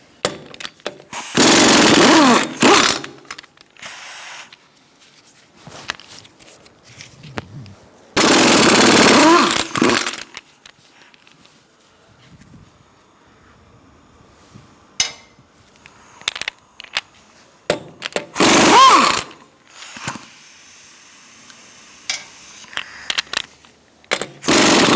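Impact wrench with a 21mm socket zipping lug nuts off a 2002-2006 Toyota Camry wheel: three loud, rattling bursts of hammering, each a second or two long, separated by quieter clanks and handling noises.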